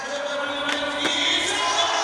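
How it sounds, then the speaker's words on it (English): Crowd at a skateboarding contest cheering and roaring in a sustained wash of noise after a trick, with a few sharper shouts rising above the steady din. "Crowd's blown away. They're going mental in here."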